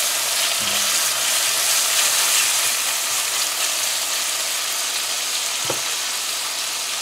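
Tomato sizzling and frying in a hot pan for fried potato with egg, a steady close hiss with a couple of brief utensil clicks, no talking.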